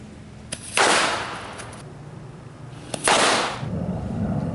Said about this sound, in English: You can see where we lit the firecracker off